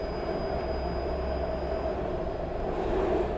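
A train in the horror video game Here They Lie rumbles steadily as a low, continuous rolling drone with a faint high whine, alone throughout.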